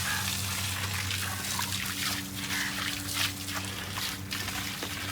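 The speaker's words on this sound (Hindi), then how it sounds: "पानी ठंडा निकला है, ताज़ा पानी निकल आया" Steady rushing of fresh, cold water pouring and trickling out at a fish farm, continuous and close, with a low hum underneath.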